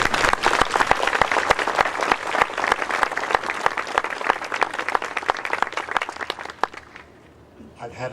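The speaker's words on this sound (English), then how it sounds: "We ought to applaud them." Audience applause for graduates at a speech, a steady burst of many hands clapping close and loud, tapering off into quiet near the end.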